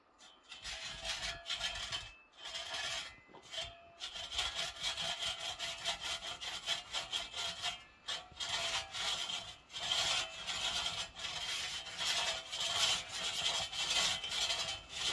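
A six-foot Crosscut Saw Company crosscut saw with Tuttle teeth rasps through wood in steady back-and-forth strokes, close and continuous for the whole stretch, with no talking.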